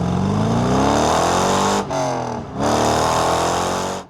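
A rebuilt Chevrolet Corvette Z06 accelerates hard, engine note climbing loud and close, with two brief dips as the driver shifts gears before revving up again.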